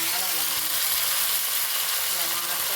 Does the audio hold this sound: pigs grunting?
no